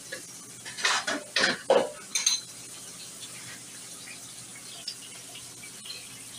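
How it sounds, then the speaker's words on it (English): Eggs flipped in a frying pan while cooking country ham and eggs, heard as a quick cluster of spatula scrapes and metallic clinks, then a quiet sizzle with a couple of faint taps afterward. "Let me flip my eggs, y'all."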